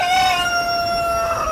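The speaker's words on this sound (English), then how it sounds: "I hope you can hear me over the chickens crowing." A rooster crows in one drawn-out, strained call, loud and close, its tone bending slightly as it trails off, amid a backyard flock of chickens.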